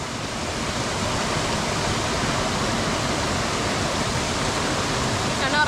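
A village stream flows close by in a steady, loud broadband rush of water that stays constant throughout, with no distinct voices standing out.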